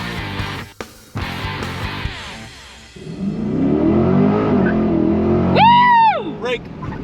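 A 495-horsepower Corvette C8 launches hard under launch control, its engine note climbing loudly in pitch after some talk, followed by excited whooping from passengers.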